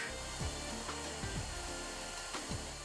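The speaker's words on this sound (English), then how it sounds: "It's a circular saw. It's made of special alloy that can cut through almost anything." A special-alloy circular saw cuts through a metal frame in the game Trails in the Sky, a steady whirring drone marked by repeated quick falling whines, loud and close with no talking.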